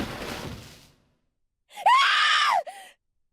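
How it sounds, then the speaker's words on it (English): A character's scream in the video game 999: Nine Hours, Nine Persons, Nine Doors, a single loud, rising-then-falling shriek of about a second with a short trailing cry, preceded by a fading noisy tail and silence. "Another scream filled the room."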